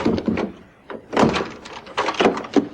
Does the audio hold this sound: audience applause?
no